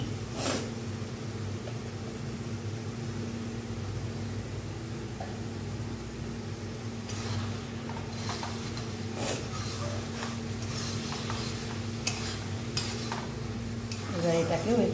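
Tilapia spiced with turmeric and chili powder fries in a pan with a steady, low sizzle, broken by occasional scraping stirs and clinks of a utensil against the pan.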